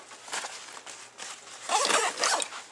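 A zipper on a gun carry bag is pulled in several quick, scratchy runs, the later strokes louder and closer.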